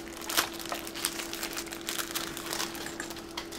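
The plastic bag of a Valom Yakovlev Yak-7A scale model kit is opened, giving a run of soft, close crinkles and crackles over a faint steady hum.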